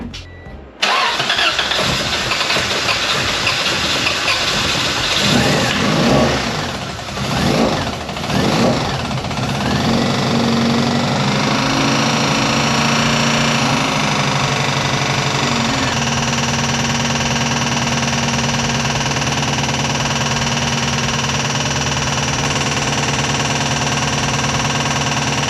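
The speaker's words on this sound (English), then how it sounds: "So it is running, but there is a terrible noise coming from somewhere." A B-series engine swapped into a Honda Civic cranks briefly, catches and keeps running at a loud, steady idle, with a harsh mechanical noise in the mix.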